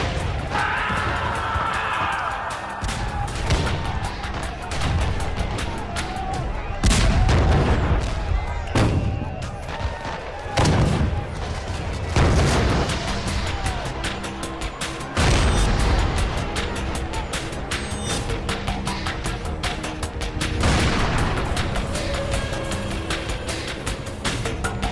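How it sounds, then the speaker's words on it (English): A dramatized Alamo battle fills the air with repeated gunshots, heavy artillery booms and crashes in loud, dense waves that keep going. "The shots that killed Davy Crockett and his fellow settlers echoed across America"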